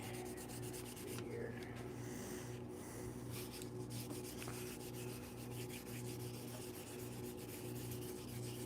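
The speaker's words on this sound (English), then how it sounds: "but I want to sand it first" A painted line on a car being hand-sanded before clear coat, heard as continuous close rubbing strokes throughout, fairly quiet, with no talking.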